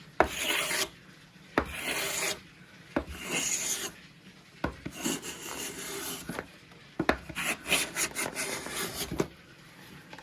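A Veritas cabinet scraper scraping a wood surface and lifting fine shavings, heard as close, rasping strokes in bursts of about a second, separated by short pauses and repeated around seven times.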